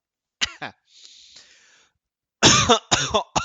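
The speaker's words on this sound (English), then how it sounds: "That sentence made me cough a lot." A person coughs several times in short bursts, with a breathy wheeze in between, close to the listener and with no speech.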